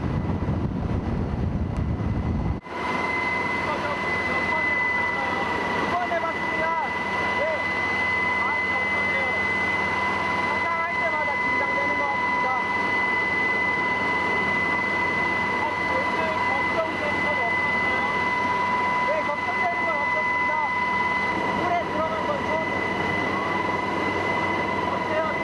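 Steady, loud roar of a rescue helicopter's rotors and engine hovering close during hoist rescue training, a dense continuous wash of wind noise with a constant whine, unbroken for the whole stretch.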